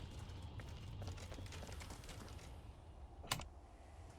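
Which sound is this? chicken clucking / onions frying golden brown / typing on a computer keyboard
typing on a computer keyboard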